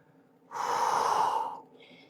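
A single deep exhale during a cat-cow spine exercise, one soft, breathy rush of air lasting about a second, close and quiet.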